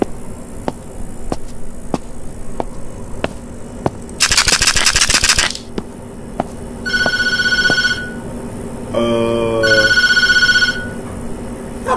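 Phone ringing in the horror video game Tattletail, a loud electronic warble in repeated bursts over a steady background hum, with sharp ticking clicks throughout.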